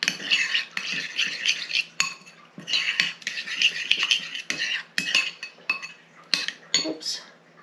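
A utensil mixing cod bites ingredients with a little lemon juice in a bowl, producing rapid scraping and clinking strokes in bursts with short pauses, close and fairly quiet, no voices.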